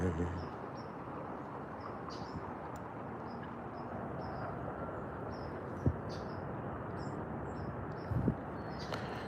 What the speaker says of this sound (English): I'm hearing birds in the background that I haven't heard since I was